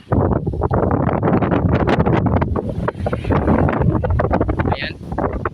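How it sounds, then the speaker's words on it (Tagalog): Strong gusts hit the microphone at Seven Commando Beach in El Nido, Palawan, a loud, buffeting roar that pulses in rough bursts throughout, with a person speaking under the gusts. "Sobrang lakas ng hangin dito mga wonders."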